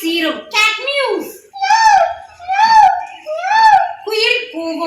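A young child imitates a cat mewing with several drawn-out, whiny meows, one after another, close and clear with short breaths between.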